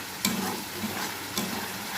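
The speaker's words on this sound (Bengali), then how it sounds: "এটা দিয়েও একটু ভালো করে নাড়িয়ে নিতে হবে।" A spoon stirs Lote (Bombay duck) fish masala with chopped tomato in a frying pan, soft sizzling under two distinct scraping strokes against the pan, close and clear.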